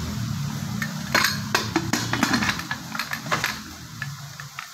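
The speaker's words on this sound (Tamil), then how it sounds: "குக்கரில் பருப்பை வச்சு வேக வைக்க போகிறேன்" A metal pot of lentils is set into a pressure cooker in a home kitchen, with close clanks and clinks of metal vessels, scraping and light knocks in an irregular series.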